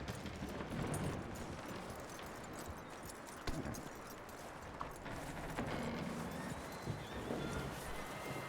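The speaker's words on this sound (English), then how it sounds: "That looks like a decent horse. You should keep him." Horse hooves clip-clopping steadily in the Red Dead Redemption 2 video game, a continuous rhythmic trot under a wash of ambient game noise, with a few sharper knocks along the way.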